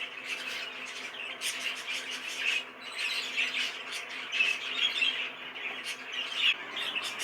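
A light green cock bird, likely a budgerigar-type cage bird, squawking and chirping repeatedly at close range in a steady scratchy stream of calls, with no talking.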